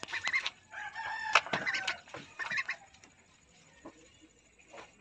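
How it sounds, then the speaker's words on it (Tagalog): Young Peking ducks give a burst of loud honking and chattering calls close by, then fall to faint scattered calls. "Ito guys ay Peking duck, hindi siya itik, hindi rin siya pato."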